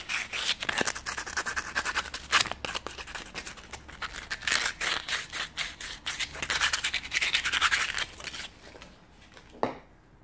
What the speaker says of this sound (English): just sand off the burrs